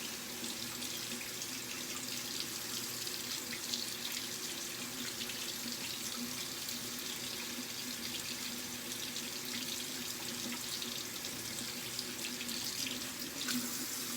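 Tap water runs steadily into a sink for the whole stretch, a constant hiss and splash at moderate level, hand washing during a silicone bowl demonstration, with no one speaking.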